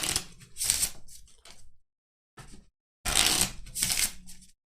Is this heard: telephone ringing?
no